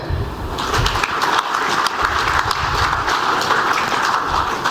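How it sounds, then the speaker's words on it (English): A large audience at the WALS 2025 surgical conference breaks into loud, sustained clapping to welcome delegates, a thick, continuous roar of many hands that holds steady throughout with no talk over it. "We welcome them all with a good and big clap."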